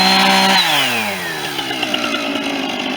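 A chainsaw cuts up a fallen tree in the woods, loud and close, its engine dropping in pitch as the chain bites into the wood and then chugging steadily through the cut.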